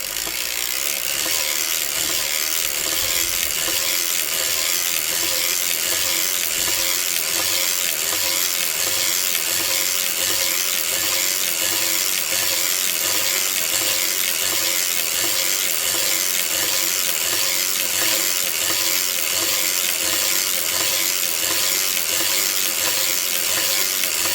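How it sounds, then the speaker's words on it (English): An Erlbach circular sock knitting machine being hand-cranked through a picot hung hem sock, giving a steady, continuous mechanical ratcheting and clicking that stays close and even throughout, with no talking. "Now we're going to crank to, like I said, 65."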